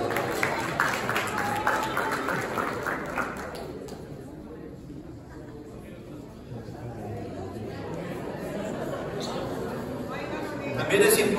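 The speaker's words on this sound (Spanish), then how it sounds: "Un aplauso." Audience applause at a Mexican tourism ceremony naming new Pueblos Mágicos; dense clapping for the first few seconds, then it fades into a murmur of crowd chatter and voices.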